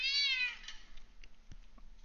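A cat lets out one clear, drawn-out meow up close, fading into quiet room noise with a few faint clicks and thumps.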